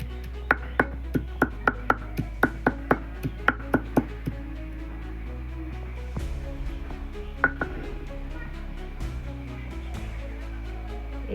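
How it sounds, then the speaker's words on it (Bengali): Garlic cloves crushed on a hard surface in a home kitchen, a quick run of about a dozen sharp, evenly spaced knocks followed by a few scattered, softer taps against quiet background hum. "রসুনগুলো থেঁতো করে নেব, এই রসুনগুলো দেব, এরকমভাবে থেঁতো করে নেব।"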